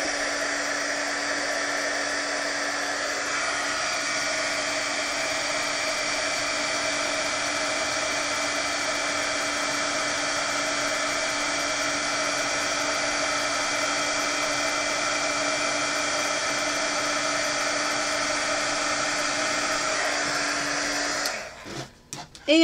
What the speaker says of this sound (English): Turn on my heat gun.